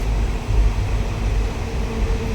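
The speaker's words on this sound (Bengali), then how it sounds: "যেটা একটা চলমান ট্রেন এবং গাড়ির আওয়াজটাও শুনতে পাচ্ছেন নিশ্চয়ই" Inside an empty compartment of a moving train, a loud, continuous low rumble and droning carriage noise rolls on steadily without voices.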